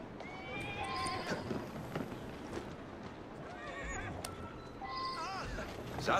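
A horse in the Assassin's Creed Syndicate video game whinnies several times over steady clip-clop hoofbeats, while someone talks throughout.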